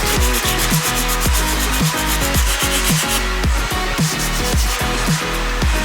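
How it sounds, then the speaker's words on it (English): Holes in a metal car boot lid being sanded by hand with 150 grit sandpaper, loud and close, with steady repeated rasping strokes in an even rhythm. "I'm going to sand these holes with 150 grit"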